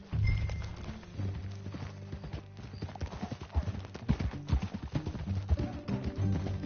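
Rhythmic clip-clop of horse hooves walking in Red Dead Redemption 2, steady and close, with game music and ambient sound underneath and a brief voice.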